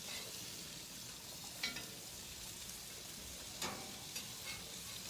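Ground beef patties sear on an outdoor barbecue grill, a faint steady sizzle with a few brief scraping clicks of a spatula, no voices.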